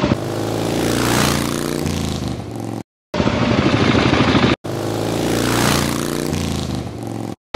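A Kawasaki KLX 300 dual sport motorcycle revs up and pulls away, its engine note climbing through the gears, then after brief cuts a steadier buzzing drone, close and loud, with no voices.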